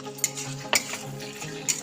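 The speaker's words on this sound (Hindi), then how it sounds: "अब मैं इन सबको मिला लेती हूँ अच्छी तरह से।" Spices and sauce for restaurant-style gobi chili being stirred together by hand, soft scraping with a few sharp clinks of a spoon against the bowl in a short quiet burst.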